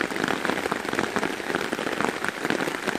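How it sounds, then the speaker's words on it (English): Heavy downpour lashing onto a tarp in a forest, a dense, loud, continuous patter of raindrops drumming on the fabric with no break. "So this is a proper downpour."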